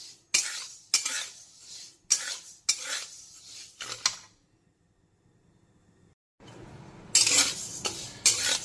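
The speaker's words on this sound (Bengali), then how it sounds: "সবার প্রথমে আমি গোবিন্দভোগ চালটাকে ভালো করে একদম ভাজা ভাজা করে নেব, শুকনো কড়াইতে" Gobindobhog rice dry-roasting in a dry wok and stirred with a metal spoon, giving repeated close scraping strokes and clinks, then a quiet pause before the stirring resumes with a faint sizzle.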